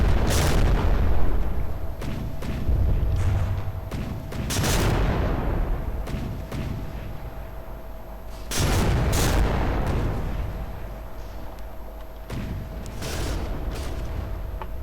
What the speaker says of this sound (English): So our guns are now also firing at the treachery.